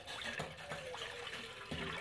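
Water is poured into a pan to make a ginger drink, a soft, steady splashing stream heard up close at low volume.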